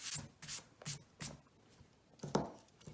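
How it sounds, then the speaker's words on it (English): An eraser rubs out pencil guide lines on a drawing of a steampunk snail, giving several quick, close scrubbing strokes in an uneven rhythm with short pauses between them. "I'm just going to rub out any guiding lines I've put in at this point"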